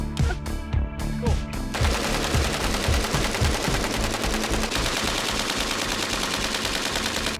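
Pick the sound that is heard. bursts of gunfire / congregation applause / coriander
bursts of gunfire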